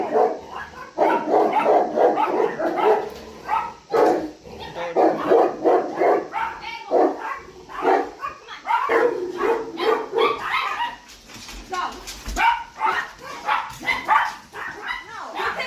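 A dog barks repeatedly during a heated confrontation with police, the yaps and bow-wows mixed in with loud, overlapping voices of people arguing nearby throughout.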